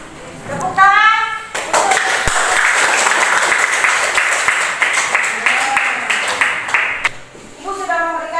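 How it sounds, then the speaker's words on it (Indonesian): A second-grade class of schoolchildren in an Islamic studies lesson claps together in a loud, steady burst lasting several seconds, with children's voices heard just before and after. "Tepuk tangan."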